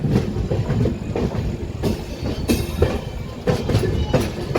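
Satavahana Super Fast Express running on rails between Secunderabad and Vijayawada, heard from inside: a continuous loud rumble with repeated clickety-clack wheel beats and a faint squeal, no voices.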